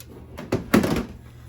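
A detached metal door from a 1964 Airstream Globetrotter travel trailer under restoration is flipped over, giving a couple of dull thunks and a soft rattle, close and without talk.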